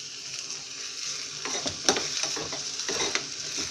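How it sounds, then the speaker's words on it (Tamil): Onions sauté in an oily pan, giving a steady loud sizzle with a spoon scraping and stirring through it in short clustered strokes. "இதை என்ன பண்ணுறீங்க, கொஞ்சம் நல்லா வதக்கிக்குங்க."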